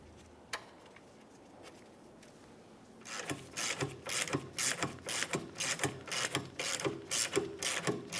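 Ratchet clicking as a sway bar link mounting nut is tightened under a 2006-2011 Honda Civic's lower control arm, a quiet stretch giving way to rapid, close, loud bursts of ratcheting strokes.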